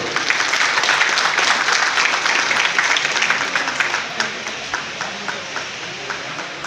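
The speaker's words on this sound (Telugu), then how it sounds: "ఒకసారి చప్పట్లు కొడుతూ" A crowd of people clapping at a gathering of rural doctors, dense applause that thins into a few scattered claps toward the end.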